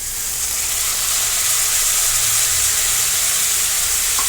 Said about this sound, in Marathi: टोमॅटो देखील व्यवस्थित तेलामध्ये परतून घेणार आहोत